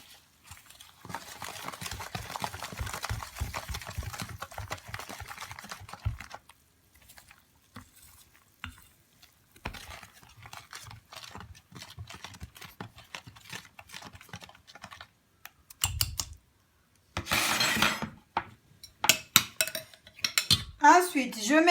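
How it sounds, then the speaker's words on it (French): A biscuit and coconut mixture is stirred in a bowl, giving soft, irregular scrapes and light clinks of a utensil against the bowl, with a few pauses and a brief louder clatter. "Là, je vais rajouter mon mélange biscuits et noix de coco. On va mélanger."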